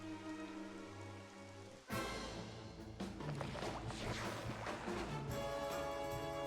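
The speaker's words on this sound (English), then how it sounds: "It's raining." Rain falls in a Dragon Quest XI game scene, a steady patter of drops that starts abruptly after a soft music passage and continues densely, with sharp splashes and water noise over the game's background.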